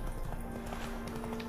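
Horse hooves clip-clop at a steady walking pace in The Witcher 3 video game, a continuous rhythmic patter under a constant low game hum and background music, moderately close.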